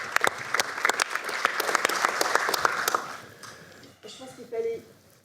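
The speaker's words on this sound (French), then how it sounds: "Et on peut l'applaudir." Conference audience at a public procurement forum applauding, with sharp, close claps over a steady wash of clapping for about three seconds before it dies away into a few voices.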